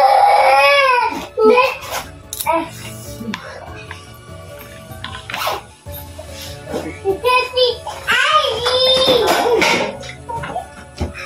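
An infant cries loudly and in bursts in a busy home, with children's voices and adults talking around it and a clatter of dishes and cutlery in the background.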